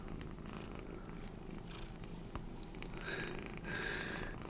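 A two-month-old kitten purring close up, a soft continuous rumble, quiet, with faint rustling and handling noises over it.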